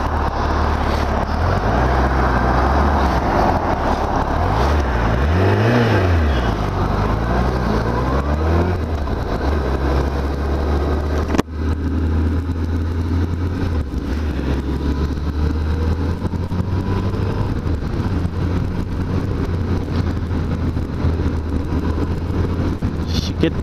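A Suzuki Hayabusa motorcycle engine drones steadily while riding on a road in Japan, briefly revving up and down early on, with constant wind rush throughout.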